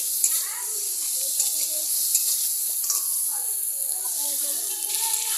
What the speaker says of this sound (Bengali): কাঁকড়াটা সুন্দর করে ভেজে নেব, যাতে অর্ধেকটা সেদ্ধ হয়ে যায়।